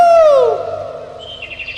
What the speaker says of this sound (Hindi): कोयल बोलने लगी